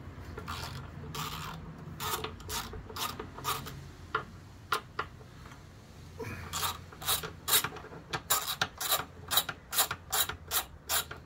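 A ratchet loosens the two 12 mm bolts on the front brake caliper of a Honda CBR500R motorcycle, with soft, close bursts of rasping clicks that grow into a quick series of sharp ratcheting strokes.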